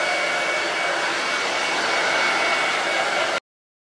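A hair dryer blows steadily on chalk-painted Halloween decorations, a loud, close, continuous whoosh that runs unbroken for over three seconds and then cuts off abruptly, with no talking over it.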